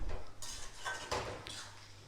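A spoon scrapes and clinks against a metal cooking pan while tomatoes are stirred with salt, giving a few close, bright metallic knocks and scrapes in quick succession with no voices.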